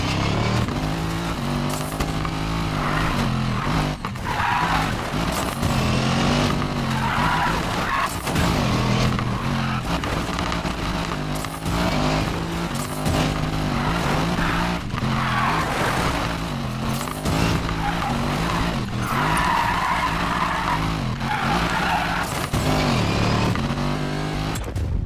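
A Mercedes-AMG GT race car in the Need for Speed Payback video game roars continuously at high revs, with tires squealing and skidding through corners of a street race under game music.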